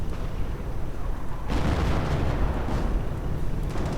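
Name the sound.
artillery barrage in a video game (Company of Heroes)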